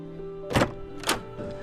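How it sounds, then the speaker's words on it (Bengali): A door is opened in a quiet room, producing two soft thunks of the latch and panel close together, followed by a faint lighter knock. "গিয়ে দরজাটা খুলে দিলাম।"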